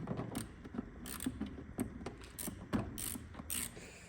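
Ratchet wrench backing bolts out of the engine of a BMW E31 840ci with a leaking seal, a run of quick clicking bursts repeating in an irregular rhythm, close but fairly quiet.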